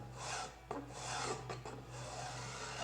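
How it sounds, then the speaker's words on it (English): A steel card scraper works a wooden frame-and-panel piece in a tight corner, giving a raspy, rhythmic scraping in several close strokes with brief pauses between them. "with this card scraper, it's real easy to sort of get into that very tight corner"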